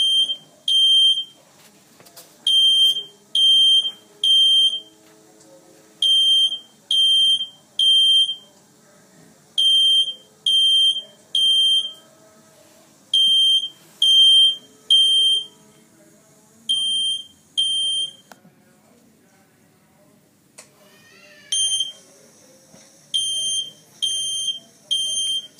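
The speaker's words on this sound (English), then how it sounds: "We are now waiting for the line to call to initiate from the iPad to our phone to alert us about the fire alarm sounds." A smoke-type fire alarm beeps loudly and clearly in repeated short bursts of shrill tones, with brief pauses between each group, sounding alone in a quiet room.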